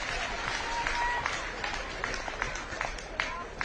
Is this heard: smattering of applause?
yes